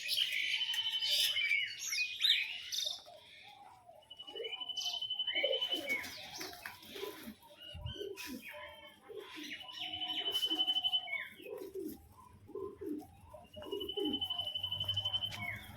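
Pigeons in a loft coo and chirp steadily at close range, with soft murmuring calls layered over one another and a few higher squeaks breaking through.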